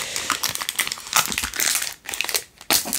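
Crinkly plastic packaging for transparent stickers is opened, with close, busy crackling and rustling in quick irregular bursts and short pauses, no talking.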